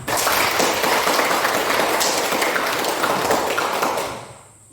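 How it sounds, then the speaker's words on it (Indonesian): Classroom applause after group presentations, a loud, dense burst of clapping from many students that holds steady for about four seconds, then fades out. "Tepuk tangan untuk semua."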